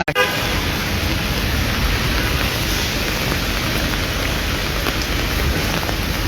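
Drizzling rain falls over city traffic in Dhaka as a loud, steady hiss of rain and road noise that fills the scene throughout.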